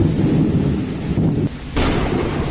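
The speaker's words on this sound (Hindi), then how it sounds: "लगातार 24 घंटे से बारिश हो रही है, बिजली कड़क रही है" Thunder rumbles loud and close through heavy rain in Lucknow during a prolonged storm, a dense continuous roar with a brief dip before the rumble swells again.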